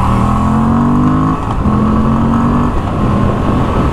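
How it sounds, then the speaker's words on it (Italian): Moto Guzzi V85 TT twin-cylinder motorcycle engine from 2021, running loud and close with a steady throbbing note that rises in pitch in two revving surges, with a brief dip between them. "Il sound di serie è il tipico bicilindrico"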